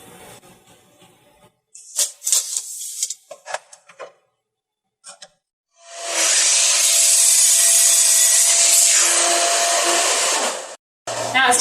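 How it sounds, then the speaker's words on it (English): A miter saw cutting 2x4 boards for a farmhouse-style blanket ladder: scattered handling knocks and brief motor blips, then one loud, sustained whirring cut of several seconds that stops abruptly, close by with no speech. "We're going to take those over to the miter saw, give them a cut"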